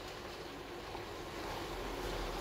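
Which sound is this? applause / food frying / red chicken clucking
food frying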